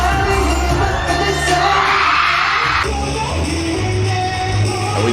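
A loud, intense crowd yells and screams at a concert, a sustained roar with a deep bass beat pulsing underneath that stays constant throughout.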